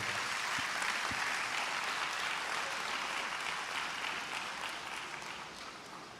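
A church congregation at a revival service in Honduras applauds, a steady wash of hand clapping heard from a distance that fades slightly toward the end.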